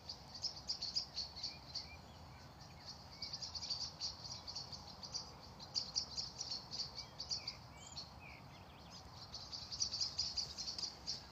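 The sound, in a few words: birds chirping at dusk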